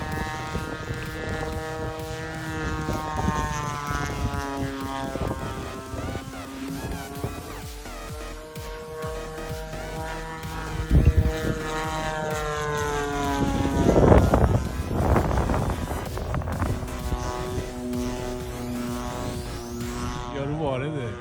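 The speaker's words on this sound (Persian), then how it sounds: "این هواپیمای دومشون هم یه هواپیمای دوباله است." A radio-controlled biplane model aircraft flies at an RC field, its buzzing engine droning steadily with shifting pitch, under wind noise and someone talking.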